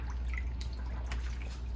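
Yarn is pushed into a pot of water to soak with citric acid, giving soft scattered drips and small liquid sloshes over a low steady background hum.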